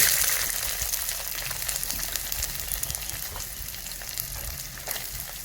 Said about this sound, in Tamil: வெங்காயத்தை நல்லா வதக்கிக்கணும்.